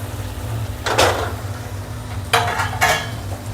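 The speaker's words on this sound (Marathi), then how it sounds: "टमाटर आणि कांदा मऊ झालेला आहे तर आता मी बटाटा टाकते" Potato tipped into a pan of softened tomato and onion while cooking poliche pohe, heard as a few short clattering scrapes and metallic knocks of pan and utensil over a low steady background hum.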